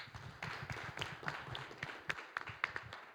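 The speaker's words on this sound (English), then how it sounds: "Round of applause to our panelists" Applause for panelists at an angel investor training session, a modest crowd clapping steadily for a few seconds, soft and somewhat distant with individual claps standing out.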